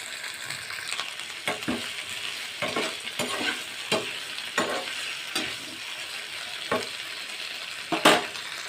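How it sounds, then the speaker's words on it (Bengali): Ginger, onion, garlic and tomato fry lightly in a pan, a continuous soft sizzle broken by regular scraping stirs and a sharper clink near the end. "আদা, পেঁয়াজ, রসুন, টমেটো একটু হালকা ভেজে আমি পেস্ট করে নেব।"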